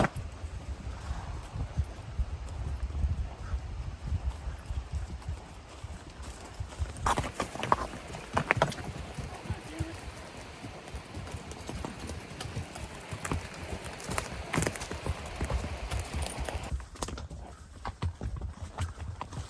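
Horse hooves of a mare clip-clop steadily on a pack trip, a soft uneven walking rhythm close by, with rustling and occasional brief louder knocks along the way.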